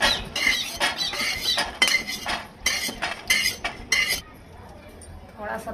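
Cooked peanuts are scooped from a pan with a metal utensil, making a quick run of close scraping and clinking bursts that stop partway through, leaving a quieter background.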